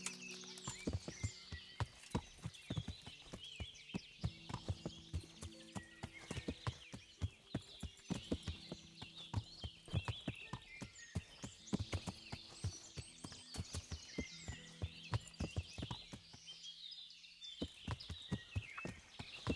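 Horse hooves clip-clop steadily in the video game Kingdom Come: Deliverance, a long run of close, regular hoof strikes at a walking pace with a short gap near the end, over a quiet ambient background.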